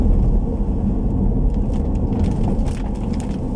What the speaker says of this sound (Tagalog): Naririnig nyo na ngayon ay pure gulong.